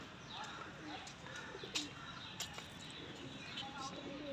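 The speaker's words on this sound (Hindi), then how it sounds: "चिड़िया पक्षी एक से बढ़कर एक पक्षी है यहाँ पर" Pigeons or doves cooing amid scattered chirps from other birds in Sayaji Baug garden in Vadodara, faint and layered over steady outdoor ambience.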